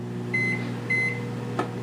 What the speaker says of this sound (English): the burrito's in the microwave